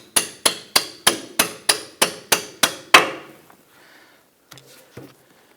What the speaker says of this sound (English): Now I want to go ahead and tap this bolt out.